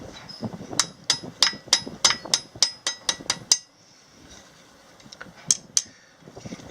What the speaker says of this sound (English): hang it over the edge there, just kind of flare out the very point on there